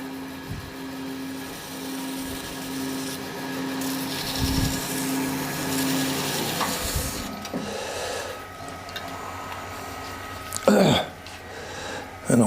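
Sanding pads rubbed over a chameleon burl hybrid shaving brush handle, giving a steady close scuffing hiss alongside a constant machine hum, then a few sharp knocks near the end.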